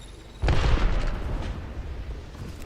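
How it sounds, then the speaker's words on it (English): A grenade goes off in Apex Legends as one close, heavy boom. Its deep rumbling blast tails off over a couple of seconds. "Grenade incoming."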